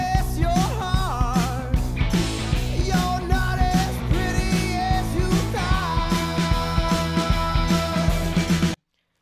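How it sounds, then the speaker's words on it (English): A gritty, distorted rock vocal layered over a cleaner lead voice, singing continuously over a full band with steady drums, then cutting off abruptly. "it's pretty fuzzy and distorted"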